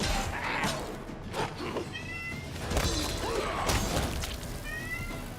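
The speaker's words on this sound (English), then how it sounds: "Don't worry about my cat." A pet cat meows a few times, short plaintive calls heard faintly over a noisy background of game sound during a stream.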